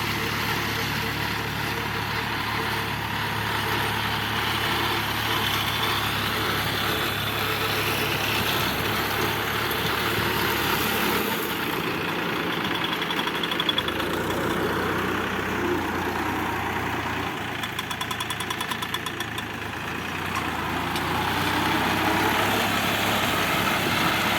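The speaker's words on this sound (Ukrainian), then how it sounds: "Косарка Віракс." A Virax lawn mower engine drones steadily and loudly throughout, a continuous buzzing motor with slight shifts in pitch and no pauses.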